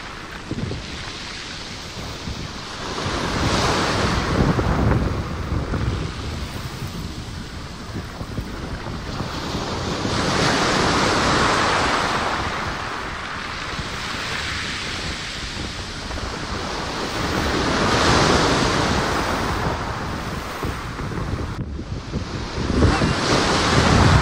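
Waves wash continuously onto a lake shore with fine brown sand, edged with trees, while steady wind buffets the microphone; the surf swells and recedes in slow cycles with no talking.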